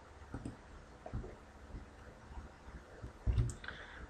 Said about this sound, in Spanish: vamos a dar clic en el banner de video tutoriales